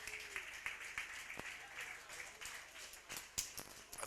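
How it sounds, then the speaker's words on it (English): A crowd at a Gaelic football match between Lacken and Drung applauds the Cavan Gaels minor team and their management as they walk up into the stand. The clapping is scattered and distant, with faint talk mixed in. "As we have the Cavan Gales minor team here being applauded up into the stand with their management team"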